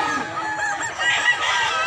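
Native chickens (manok) at a market in Mantalungon, Barili, Cebu give a steady, busy clucking with occasional crowing notes, moderately loud and continuous over a noisy farm background.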